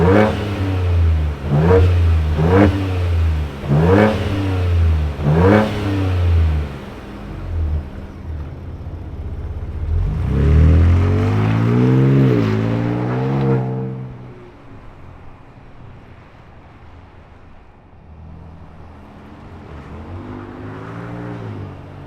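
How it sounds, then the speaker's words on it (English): A 2024 Ford Ranger Raptor with an EcoBoost V6 fires up and revs in a quick series of four loud, rising bursts, then one longer throaty rev that settles into a quieter, steady idle rumble. "let's fire up this EcoBoost V6 and hear what it sounds like."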